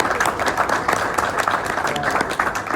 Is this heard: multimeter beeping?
no